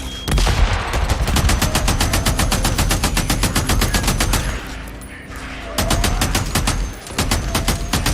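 Rapid automatic gunfire from the Days Gone game, a long loud burst of evenly spaced shots with short pauses near the five- and seven-second marks.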